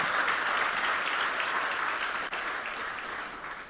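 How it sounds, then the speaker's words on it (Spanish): A church congregation at a bilingual Spanish and English service gives a strong round of applause for the word, a thick, even roar of clapping that holds steady and eases slightly toward the end. "Give a great round of applause to the word"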